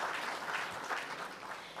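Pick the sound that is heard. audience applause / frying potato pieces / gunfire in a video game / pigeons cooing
audience applause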